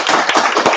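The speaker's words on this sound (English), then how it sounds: "let's give a big clap to Tsunami Comics" Audience applause at a comic book launch event, a dense burst of clapping from many hands that rises and swells steadily through the moment, loud and close with no voices over it.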